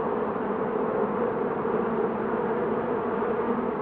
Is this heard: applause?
no